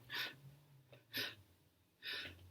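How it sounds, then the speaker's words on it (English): Deep breaths in sound three times as short, airy inhalations, close and soft and evenly spaced, during a calming breathing exercise for an angry child, with no speech. "Breathe in"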